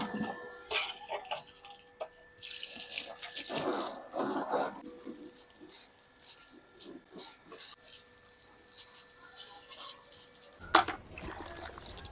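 Water from a motor runs steadily for washing vehicles, a hissing, splashing stream with rubbing and scrubbing noises rising and falling, fairly faint and with no talk.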